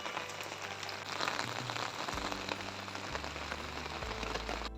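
Heavy rain falling steadily through a rural morning after an all-night downpour, a dense hiss of drops pattering on surfaces, fairly faint with no talk.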